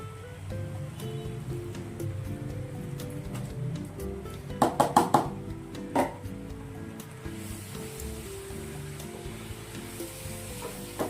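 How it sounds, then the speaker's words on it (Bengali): Grated coconut being stirred in a cooking pan, with a soft continuous scraping sizzle and a brief cluster of sharp utensil clinks against the pan midway. "নারকেলটা দিয়ে ভালো করে নাড়াচাড়া করে নেব।"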